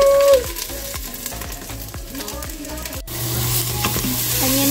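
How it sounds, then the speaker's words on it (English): Onions and garlic sizzle as they sauté in an Instant Pot, with a loud continuous frying hiss broken by repeated scraping stirs and clinks of a utensil against the pot, no voices. "Onions and garlic are sauteing really nice now."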